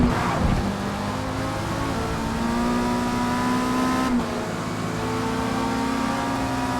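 A race car engine revs loud and steady in the Forza racing video game, a sustained, tonal engine drone that shifts pitch as it climbs through the gears during a multiplayer race, with no talking.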